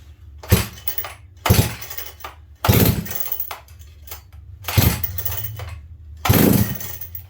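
A McCulloch Super Pro 125 chainsaw, rebuilt and hard to start, is pulled over repeatedly: five loud, rasping bursts about a second apart, each one coughing briefly before dropping back to near quiet, with no steady running.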